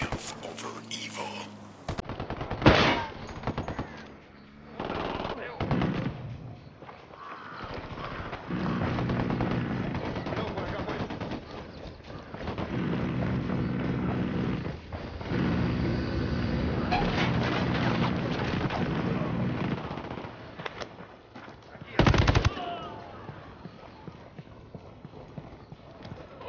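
Video game gunfire in Ghost Recon Wildlands, with sharp shots and bursts scattered among engine and movement noise, moderately loud throughout, with a loud crack near the end.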